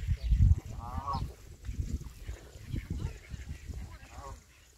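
Ducks at the Burgas zoo in Bulgaria give several nasal honking quacks at moderate distance, scattered among outdoor noise and a low background voice.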